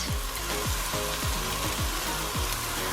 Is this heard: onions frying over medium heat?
yes